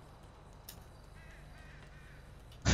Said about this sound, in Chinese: 乌鸦在叫。